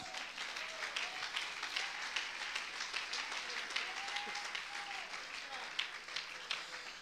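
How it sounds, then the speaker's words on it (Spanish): A church congregation applauds during a sermon, a steady, moderately distant wash of clapping that carries on evenly for the whole stretch, with faint voices underneath. "Dale un aplauso a Cristo y sigo."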